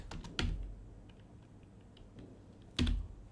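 A computer keyboard being typed on in short bursts, with a few close, quick clusters of keystrokes and quieter taps between them, no speech.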